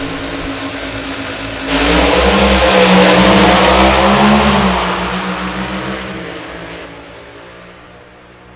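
Drag racing car at a Topeka strip holding high RPM on the line, then launching with a loud roaring surge that peaks and fades as it pulls away into the distance.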